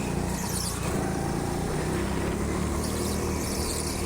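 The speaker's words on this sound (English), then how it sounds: "you can see that queue of karts coming around the first corner there" A line of go-karts circles an indoor track at TeamSport Sheffield, their small engines buzzing in a dense, continuous whine with a steady roar of hiss, loud and close throughout.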